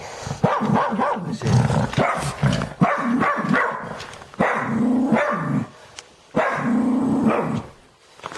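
A dog barks repeatedly in short, loud bursts close by, with a voice calling out between the barks.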